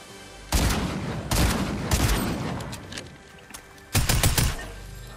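Gunfire in Fortnite bursts out in several rapid volleys, loud and close, with a sharp cluster near the start, another midway, and a dense final flurry of shots; no talking.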